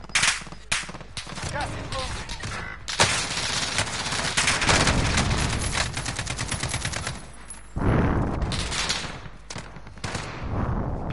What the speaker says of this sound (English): I heard somebody shooting.